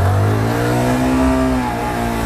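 A motorcycle pulls away hard from a traffic light in Ankara, its engine revving up loud and close through rising gears over about two seconds.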